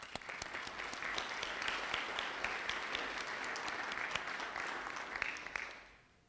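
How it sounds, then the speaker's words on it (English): Audience applause at a high school hall of fame ceremony, dense sharp claps sustained evenly and then fading out quickly near the end. "I think that deserves a round of applause."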